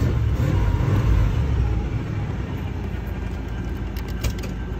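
1989 Chevy Caprice Classic Brougham running close by, a loud low rumble that eases slightly after the first second and then settles into a steady idle.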